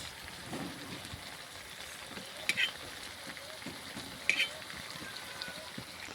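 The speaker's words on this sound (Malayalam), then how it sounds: "നമ്മുടെ അമോർ മീൻ ഫ്രൈ റെഡി ആയിക്കൊണ്ടിരിക്കുകയാണ്" Hamour fish frying in a pan: a soft, steady rain-like sizzle with faint crackles throughout and two brief sharp clinks.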